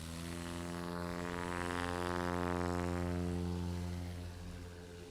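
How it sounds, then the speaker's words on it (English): STOL airplane taking off into a left quartering headwind at a 2020 National STOL Series competition in Gainesville, Texas: a steady, droning engine buzz that swells gradually to a peak and then eases slightly, with no talk. "All four of these components are trying to make it tougher for these airplanes to take off with a left front quartering headwind."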